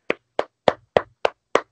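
Six sharp hand claps, evenly spaced and close, each a crisp isolated smack with silence between.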